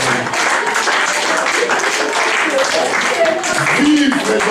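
A church congregation claps and cheers in praise of the Lord, a dense and steady wash of applause filling the room over several seconds, with voices mixed into the clapping.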